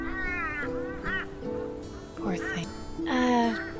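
Birds in the game Shardlight squawking and honking in a rough, goose-like chorus, with several harsh calls rising near the end, mixed with a person talking.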